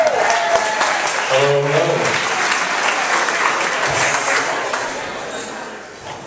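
Audience applause welcomes Ben to the stage at a talk on the internet and democracy, sustained clapping that gradually fades, with a brief spoken greeting partway through.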